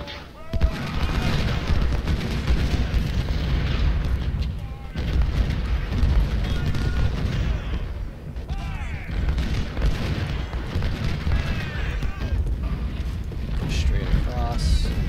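Booming artillery fire from a Civil War battle in the Ultimate General: Civil War game, a dense rumbling barrage with overlapping blasts and battle noise running continuously, with a voice talking over it.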